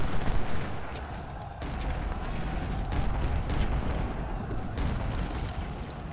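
Artillery fire in the Ultimate General: Civil War video game, a dense continuous roar of overlapping cannon and gunfire booms, heavier bursts near the start and scattered through, with no talk.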